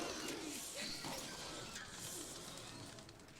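Bird calls and cooing, pigeon- or dove-like, from the video game Bioshock Infinite, heard over a dense, steady ambient wash lasting the whole stretch.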